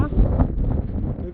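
Strong gusty wind rushing through the gap between two hills on the Etthina Bhuja trek, roaring and buffeting the microphone in a dense low rumble while a person talks over it.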